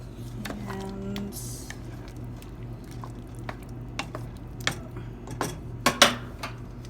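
Homemade beef stew is ladled into a bowl, with soft wet squishing and scattered clinks of ladle against the bowl, growing to sharper knocks toward the end over a low background hum.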